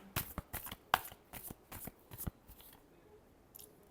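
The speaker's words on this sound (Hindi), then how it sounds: "Last shuffle." Tarot cards being shuffled by hand, a quick series of crisp riffling bursts close up, about a dozen in a row before tapering to a faint final flick.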